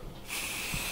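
Spray finish hisses steadily onto sanded wood, starting abruptly after a short quiet moment and continuing as a close, even blast for the rest of the moment.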